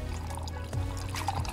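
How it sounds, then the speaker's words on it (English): Refreshments poured in the video game Boyfriend Dungeon, a soft liquid pour running under steady game music with faint tonal chimes, no talk. "He takes off his gear and pours refreshments."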